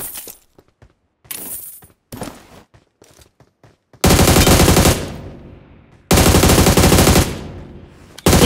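Gunfire in the mobile battle royale game BGMI: short scattered shots at first, then two long, loud bursts of automatic fire with bright metallic rattling.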